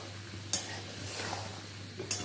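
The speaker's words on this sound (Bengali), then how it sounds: "দিয়ে দিয়েছি মাশরুম, দিয়ে আবারও কিছুক্ষণের জন্য কষিয়ে নেবো।" Mushrooms and chicken gizzards cooking in a pan give a soft, steady sizzle, with two sharp scrapes of a utensil against the pan.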